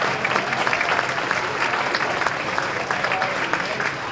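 Steady, dense applause from a concert audience at a school jazz coffeehouse evening, sustained and fairly close for the full stretch with no breaks.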